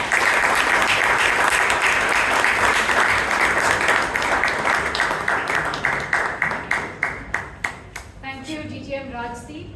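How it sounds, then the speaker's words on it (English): A Toastmasters club meeting audience claps loudly and steadily for several seconds, then the applause thins out into scattered claps and fades. "let's all clap"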